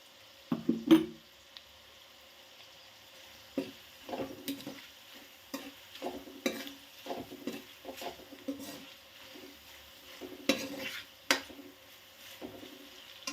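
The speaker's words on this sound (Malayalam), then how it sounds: "ഇനി നല്ലപോലെ ഒന്ന് ഇളക്കി കൊടുക്കുക പൊടികളുടെ പച്ച മണമൊക്കെ ഒന്ന് മാറണം" Turmeric and spice powders with a spoon of salt scraped and stirred in a pan for Kerala-style kanthari chilli pickle, a run of soft, irregular stirring scrapes with a light sizzle and brief pauses between strokes.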